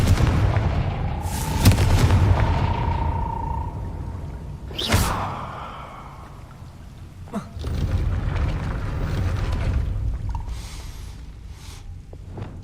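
A Confringo blasting curse from Hogwarts Legacy goes off in loud booming explosions. A sharp blast lands near the middle, followed by rumbling and lighter crackles.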